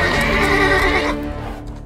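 A horse gives a loud, close whinny that lasts about a second and then fades away, heard on its own without any talking.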